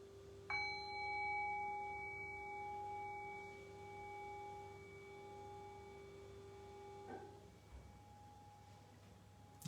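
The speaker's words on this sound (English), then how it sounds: "I'll ring the bell." Meditation bell struck once at the start of a dharma talk, a clear ringing tone that sustains and slowly fades over several seconds, followed by a faint touch near the end, in a quiet room with low hum.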